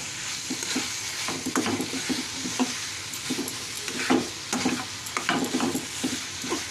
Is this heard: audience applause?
no